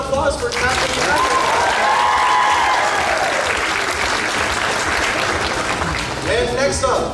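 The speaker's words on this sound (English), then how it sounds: "one more big round of applause for Captain America" An anime convention crowd gives sustained, dense applause for a Captain America costume at a costume contest, with a voice speaking over the clapping.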